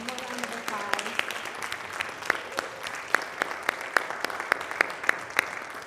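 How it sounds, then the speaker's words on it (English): A church congregation at a Sunday service gives a round of applause: sustained, even clapping from many people with a few sharper, closer claps standing out near the end. "Give them one more round of applause."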